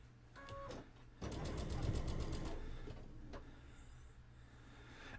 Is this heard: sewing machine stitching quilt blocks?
yes